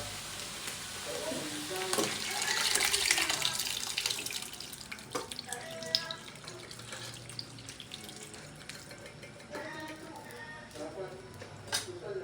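Mung bean broth poured into a cooking pot for monggo with tinapa and chicharon, a watery running splash building in the first few seconds and then easing into scattered clinks and stirring close by.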